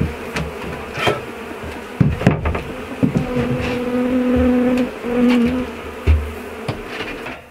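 Honey bees buzzing densely around a hive while being fed, a close, steady drone with scattered knocks and bumps, no talking.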